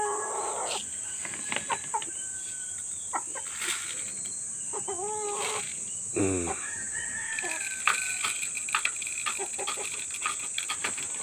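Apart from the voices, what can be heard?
chickens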